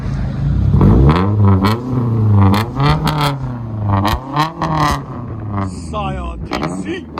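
Repeated rising and falling revs from a 2016 Scion tC with its muffler and resonator deleted, loud and close, each blip climbing then dropping back in a choppy rhythm with a metallic rasp.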